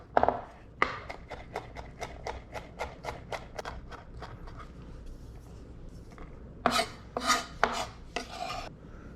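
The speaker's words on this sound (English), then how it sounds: "We're gonna mince up our garlic" Rapid rhythmic knife chops mince garlic cloves on a cutting board, a steady series of crisp taps followed by a few louder, broader scraping strokes near the end, close and alone.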